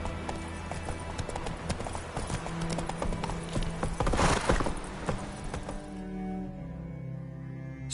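Roach, a horse in The Witcher 3, trots with rapid, rhythmic hoof clip-clops over steady ambient noise, close by, then slows toward the end.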